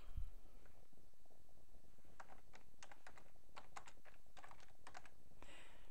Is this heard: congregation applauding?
no